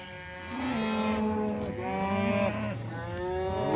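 A mob of grazing cattle moos loudly near a pond dam, several overlapping calls rising and falling in long drawn-out bellows with no talk.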